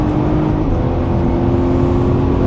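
A sports car on a racetrack in Las Vegas pulls hard under throttle, its engine a loud, steady, close droning roar throughout the short burst.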